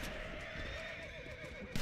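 A horse whinnies in Red Dead Redemption Undead Nightmare, a drawn-out wavering neigh at moderate-low volume over quiet game ambience, ending with a brief louder thump.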